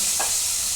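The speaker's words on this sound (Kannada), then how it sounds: "ಖಾರದ ಪುಡಿ ಅದೆಲ್ಲ ಹಾಕಿ ಕಲಿಸ್ಕೊಂಡಿಟ್ಕೊಂಡಿರೋ ಮಟನ್ನ ಇದರಲ್ಲಿ ಹಾಕಿ ಬೇಯಿಸ್ಕೊಳ್ಬೇಕು" Mutton marinated with chilli powder and spices sizzles in well-heated oil. A brief, loud, even hiss of frying with a soft burst near the start and no talking.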